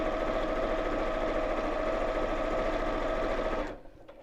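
A sewing machine stitches fabric down the sides of a half-yard project, running as a steady loud mechanical whir for several seconds before stopping abruptly near the end.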